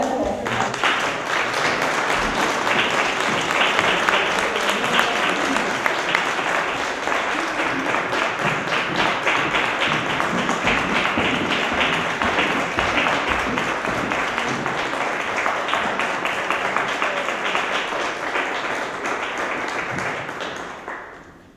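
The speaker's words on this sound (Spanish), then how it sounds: "Vamos a recibirlos con un aplauso." An audience at a tango recital in the Casa del Tiempo claps to welcome the performers: about twenty seconds of dense, sustained applause that stays loud and even, then tapers off at the end.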